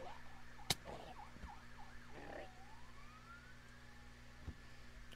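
Distant fire truck siren in the Minecraft video game, a faint wailing tone rising and falling under background hum, with a couple of sharp clicks.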